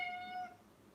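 A cat in a backyard gives one short, clear meow at close range, fading after about half a second into faint background hiss.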